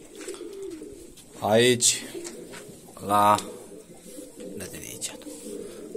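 Pigeons in an aviary give two loud, close, rolling coos a second or so apart, over soft background murmur and fainter calls, with a brief whispered word.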